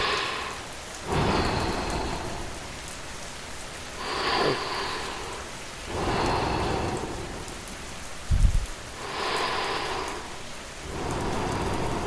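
Steady rainfall on surfaces during a thunderstorm, with repeated rolling thunder swells every couple of seconds and one sharper, deeper crack near the end, alone with no voices.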